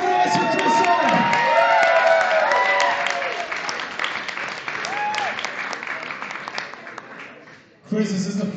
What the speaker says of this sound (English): Make some noise for CHRIS-R!